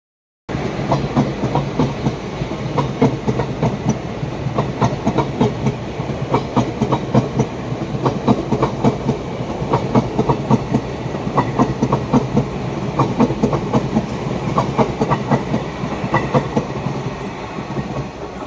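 A loud, close train rumbles past, its wheels beating a continuous rhythmic clickety-clack on the rails throughout.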